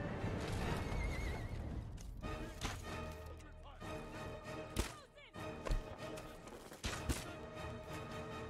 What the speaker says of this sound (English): That sounds like a dragon more than a horse.